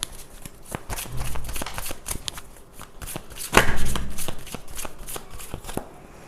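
Tarot cards shuffled by hand during a reading, heard up close as repeated crisp riffling and slapping bursts with a louder flurry partway through, and no talking over them.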